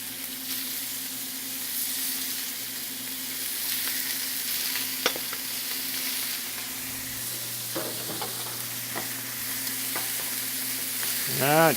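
Pieces of lamb sear in a pan, giving a steady close sizzle with scattered pops and clicks of handling, growing louder and busier toward the end.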